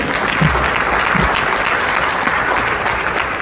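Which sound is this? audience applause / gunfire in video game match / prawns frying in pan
audience applause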